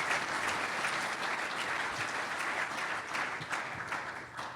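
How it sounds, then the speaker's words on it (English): An audience at an economic forecast event applauds sponsors with a steady, even wash of many hands clapping, moderately distant and continuous for several seconds without voices. "Let's give them a round of applause as well."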